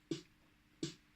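Two quiet, crisp snare hits about three quarters of a second apart, each short with a soft noisy tail.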